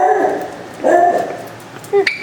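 Dogs in a kennel's big-dog section bark and whimper close by, a few short yips and barks in quick succession, with a person speaking nearby.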